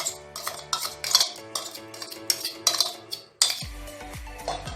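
Spiced chicken pieces tipped into a pot for chicken kasha, a string of metallic clinks and scrapes from a spoon against the cookware, close and fairly loud, ending in a heavier thud and soft sizzle.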